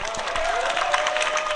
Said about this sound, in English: And another round of applause for Leslie